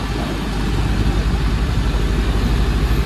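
An International Eagle 9900 truck engine runs loud and steady on a Jamaican road, a dense low rumble holding throughout with slight surges as it works through a gear change, no voices.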